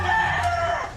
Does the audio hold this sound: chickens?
yes